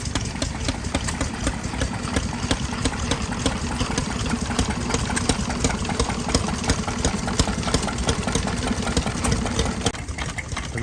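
An old stationary engine pumping water at a classic car and steam vehicle show, running with a rapid, steady, loud mechanical chugging for the whole stretch.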